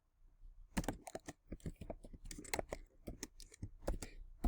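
Typing code on a computer keyboard: a close, quick run of uneven clicking keystrokes, some in short bursts and some spaced apart, with no talking.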